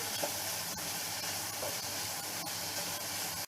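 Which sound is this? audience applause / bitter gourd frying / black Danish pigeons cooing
bitter gourd frying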